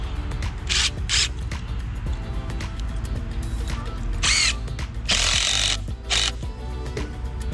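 A power drill drives a 2.5-inch screw into deck trim from the back side in several short bursts of whirring, separated by pauses, with a mechanical ratcheting clatter, loud and close.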